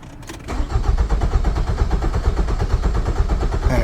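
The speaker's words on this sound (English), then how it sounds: "Now I'll check if this can start the car." A 2005 Nissan Altima engine cranks without catching, the starter churning in a loud, fast, even rhythm for several seconds after a brief click, never firing up.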